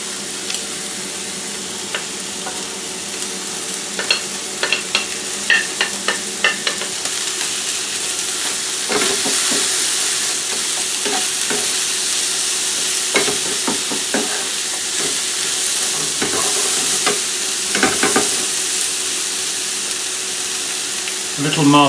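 Chopped onion, cabbage, sliced mushrooms and carrots stir-frying in a hot pan, a loud continuous sizzle with rapid clacking utensil strokes and scraping throughout.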